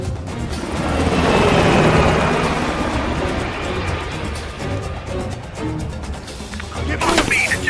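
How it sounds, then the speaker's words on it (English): A helicopter in Call of Duty Black Ops Cold War drones with a loud, steady rotor roar that swells and fades, mixed with game effects and shouted voices. "The chopper got away!"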